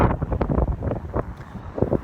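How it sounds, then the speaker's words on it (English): Strong wind buffets the microphone in continuous loud rumbling gusts, with no voices. "Man, it's windy."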